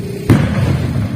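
A village cannon (meriam) fires on Hari Raya night in Kampung Talang, one loud deep boom that hits suddenly and rolls on as a low rumbling tail.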